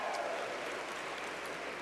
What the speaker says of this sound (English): Yeah, you can applaud for yourselves.